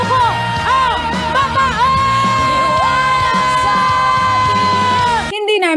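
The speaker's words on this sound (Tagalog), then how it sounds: "Yan ang sigaw ng Bataenyong supporters ni Presidential Candidate VP Leni Robredo at Vice Presidential Candidate Senator Kiko Pangilinan sa isinagawang People's Rally" Supporters at a People's Rally in Bataan for a presidential and vice-presidential tandem chant and yell in unison. Loud, dense crowd voices carry rhythmic, sustained shouts, and a louder held cry rides over the mass before it cuts off abruptly.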